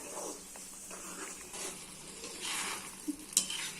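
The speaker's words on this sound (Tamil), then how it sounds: "நல்லா பொரியுது பாருங்க. தக்காளியை இப்ப விடுறேன்." Tomatoes frying in oil for tomato pickle, a quiet continuous sizzle with occasional stirring scrapes and a brief hissing burst toward the end.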